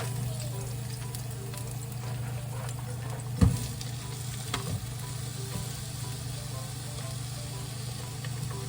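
Garlic and onion frying in a pan give a steady, even sizzle under a low constant hum, with one or two brief knocks, close and with no talking.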